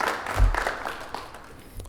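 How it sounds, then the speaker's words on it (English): Brief burst of audience applause for library staff at a City of San Diego Welcoming Week celebration, clapping swelling early then thinning out within two seconds. "I would love to just give a round of applause of our library staff"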